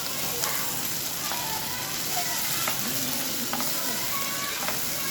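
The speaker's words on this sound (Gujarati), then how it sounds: "હવે આપણે આદુ લસણને સારી રીતે મિક્સ કરી લઈશું।" Ginger garlic paste frying and being stirred into golden onions in a pan, a steady close sizzle with occasional soft scrapes of a spoon, continuous and without talk.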